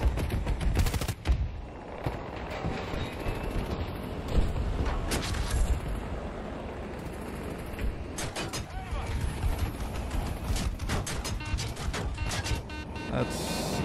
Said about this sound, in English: what's shooting me right there is a transport vehicle